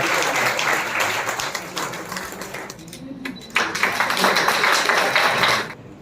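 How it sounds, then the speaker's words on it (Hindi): Loud, dense applause from the audience at an Indian public health awareness lecture and medical camp event, sustained for several seconds with a brief dip midway before swelling again. "जोरदार तालियों से स्वागत।"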